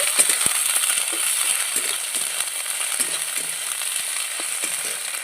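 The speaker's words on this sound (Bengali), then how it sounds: "তেলের সাথে একটু কষিয়ে নিচ্ছি" Onion with ginger-garlic paste sautés in hot oil for a rohu fish-head chorchori, a constant close sizzle with light clinks of a spatula against the pan.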